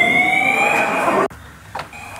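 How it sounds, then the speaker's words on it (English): A hotel fire alarm set off by burnt popcorn blares a loud steady electronic tone that cuts out abruptly partway through, leaving a quieter hum with a faint brief sound after. "These fucking false alarms"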